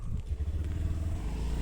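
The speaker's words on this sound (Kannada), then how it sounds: "ನಾವೀಗ ಸ್ಕೂಟಿಯಲ್ಲಿ ಹೋಗ್ತಾ ಇದ್ದೇವೆ" A small motor scooter engine hums steadily at close range, a low continuous drone with slight fluttering as it rides along.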